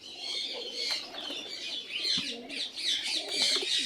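Young racing pigeons in a loft coo and chirp steadily all through, a busy overlapping flock chatter with no talk over it.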